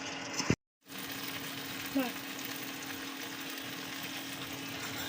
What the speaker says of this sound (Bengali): এরপরে একটু ভালোভাবে নেড়ে চেড়ে নেব, যাতে মরিচ মশলার গন্ধটা চলে যায়। এটাকে ভালোভাবে কষিয়ে নিতে হবে।